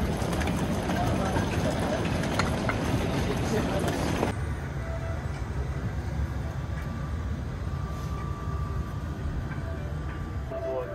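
A train at a station in Uzbekistan runs with a steady rumble and rolling clatter amid crowd noise, loud at first and then settling to a lower steady level as people talk.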